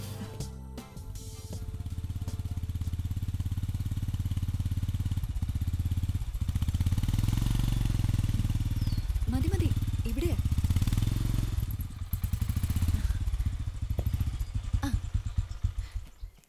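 A motorcycle engine idles and runs steadily nearby for most of the stretch, a low rumble with a few brief revs, while people talk over it.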